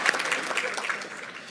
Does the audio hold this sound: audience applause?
yes